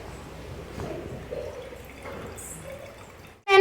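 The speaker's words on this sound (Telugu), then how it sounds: "ఫస్ట్ ఇలా వాటర్ పోసుకోవాలి" Water poured from a cup into a glass jar for a classroom egg-and-salt science experiment, heard as a faint, soft trickle, then a short loud clatter at the very end.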